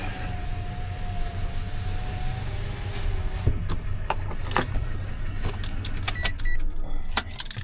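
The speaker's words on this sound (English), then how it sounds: "Let's roll this window up." Power window on a semi truck with a step deck trailer whirs steadily upward for about three seconds and stops with a thunk, over a low idling engine, followed by a scatter of sharp clicks and rattles.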